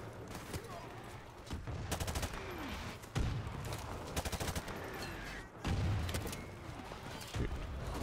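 Bursts of gunfire in the Modern Warfare Remastered campaign mission War Pig, rapid volleys with several louder blasts over a constant battle din, with faint talk in places.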